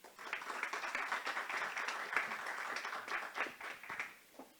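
A room full of people applauds to welcome a panel at a Spanish-language session on digital education and literacy, a moderately loud, steady patter of clapping that fades near the end.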